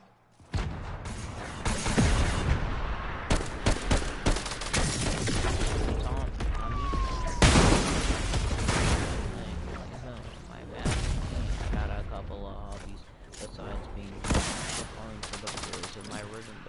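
Dense gunfire in a Fortnite match, with bursts of rapid shots and heavy booms piling up almost continuously at close range, and a voice talking faintly over it.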